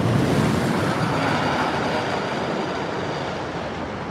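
An empty train on the Zumanjaro drop ride rumbles past in a broad, steady roar that slowly fades, with no voices over it.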